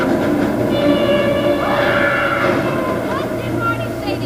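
An animated train pulls into a station in a New York scene, a steady rumbling roll with a rising screech of brakes, under loud background noise and some talking.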